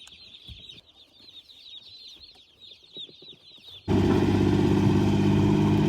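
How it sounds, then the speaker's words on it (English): Pastured poultry cluck and chatter continuously up close for several seconds, then a loud engine-like roar abruptly drowns them out. "Moving the chickens out to pasture."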